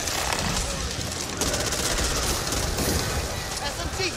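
Rapid bursts of gunfire from the zombie shooter Back 4 Blood, dense and continuous through the whole stretch, mixed with game noise and voices talking over it.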